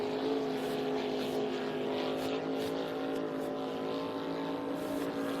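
A racing speedboat at high speed, around 95 mph, with a steady high-pitched engine drone at constant loudness and faint wind or spray noise, no pauses.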